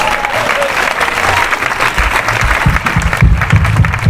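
A church gathering's audience applauds and acclaims Jesus, dense continuous clapping with crowd voices mixed in, loud and sustained throughout.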